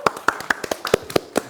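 Scattered audience clapping at an Indonesian stage event after a song, a handful of distinct, uneven hand claps close by, sparse rather than a full ovation.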